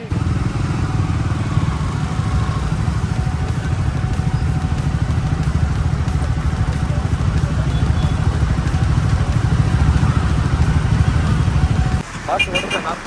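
A Triumph motorcycle engine runs in a steady, droning low rumble at a constant pace for most of the stretch, then drops away sharply near the end.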